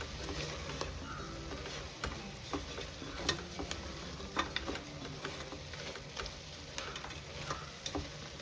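Mutton masala for spicy green Maharashtrian mutton kharda is stirred in a pressure cooker, with a quiet sizzle under irregular scraping clicks of a spoon against the pot, close and fairly soft.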